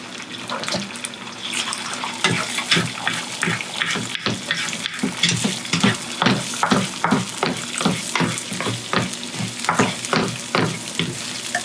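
Eggs frying in hot oil in an old pan, a loud close sizzle with rhythmic crackling pops and scraping stirs repeating steadily throughout, no talking.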